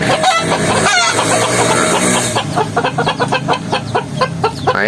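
A jungle fowl crossed with a Berugo chicken gives a short crow amid overlapping clucks and crowing from other nearby fowl, followed by a run of rapid, rhythmic clucking calls close to the listener.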